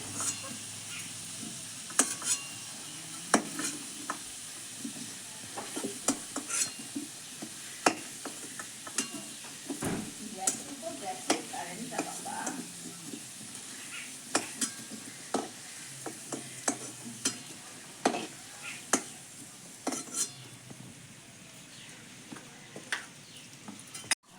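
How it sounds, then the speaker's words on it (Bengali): Whole garam masala, including cardamom, cloves, cinnamon and bay leaf, crackles in hot oil with a soft sizzle, punctuated by frequent sharp pops and utensil taps. "ফোড়নে দিয়ে দিচ্ছি গোটা গরম মশলা, এলাচ, লবঙ্গ, দারচিনি আর তেজপাতা।"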